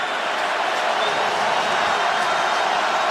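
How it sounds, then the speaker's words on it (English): Roaring stadium crowd at an NFL game between the Tennessee Titans and Buffalo Bills, a loud, steady, dense wall of noise from thousands of fans that holds without pause throughout. "the crowd gets louder"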